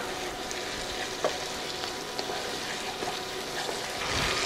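A sloppy joe meat mixture is stirred in a skillet, giving a continuous close sizzle with soft scrapes and small clicks of the spoon, swelling slightly at the end, and no one speaks.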